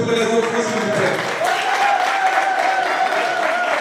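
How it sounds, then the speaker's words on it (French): Wedding guests at a customary wedding applaud the children, with dense clapping mixed with crowd chatter and a sustained musical tone running underneath. "Applaudissez pour les enfants s'il vous plaît."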